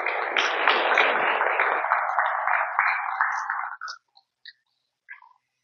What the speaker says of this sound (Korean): 다 함께 응원의 마음 박수 한번 주시겠습니까?